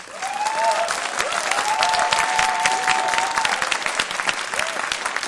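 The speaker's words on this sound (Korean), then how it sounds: "우리 행정 목사님 나오실 때 큰 박수로 오늘 주실 은혜를 위해서 환영해 주시기 바랍니다" A church youth worship congregation breaks into loud, sustained applause to welcome the pastor, dense clapping from a nearby crowd with a few cheers rising over it.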